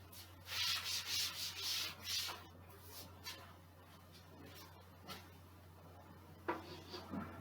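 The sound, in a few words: eraser rubbing a board to erase a diagram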